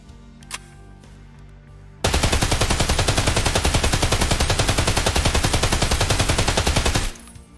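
A DT MDR 5.56x45 rifle fires in Escape From Tarkov in one long sustained automatic burst of about five seconds, loud, steady and rapid, after a quiet lead-in, then cuts off.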